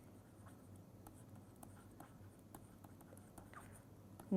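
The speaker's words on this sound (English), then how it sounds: "I am just going to write the main verbs here" Pen or pencil writing on paper at close range, a quiet continuous scratch with brief strokes over a low background hum.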